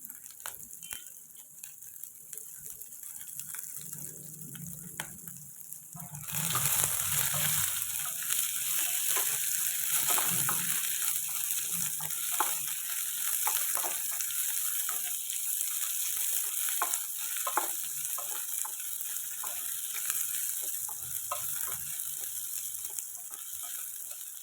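Onions and crushed garlic go into hot oil in a pan. A quieter crackle jumps to a loud, steady sizzle that continues for about twenty seconds, with occasional stirring clicks and scrapes close by.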